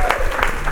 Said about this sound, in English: So if everybody can join me in giving Chris a round of applause